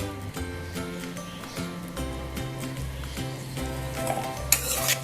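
Okra (bhindi) frying in a pan over medium heat, a constant close sizzle with occasional clinks of a utensil against the pan, while music plays throughout in the background.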